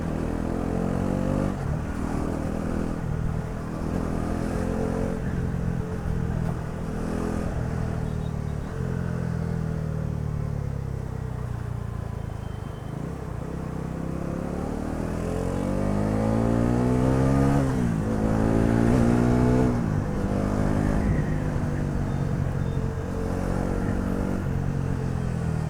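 A Bajaj Pulsar NS400Z motorcycle accelerating through traffic, engine revving up repeatedly in rising sweeps, steady and moderately loud over the whole stretch with no talk.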